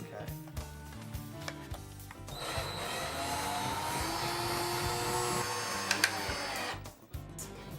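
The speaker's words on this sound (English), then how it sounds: "do I use a drill to do that?" A power drill driving screws into a wall-mounted shelf whirs steadily for several seconds, a continuous motorized buzz with a few clicks, close by.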